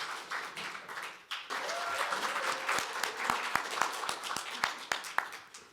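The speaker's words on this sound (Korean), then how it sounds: "큰 박수 부탁드리겠습니다." An audience at a policy forum on women-owned business applauds, with scattered claps building into steady, moderately loud clapping from the crowd that carries on for several seconds.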